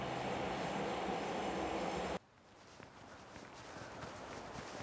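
A subway train runs with a loud, steady roar that cuts off abruptly, leaving a quieter carriage with soft shuffling footsteps and faint rumbling that slowly builds again.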